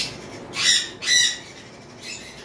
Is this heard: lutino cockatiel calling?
yes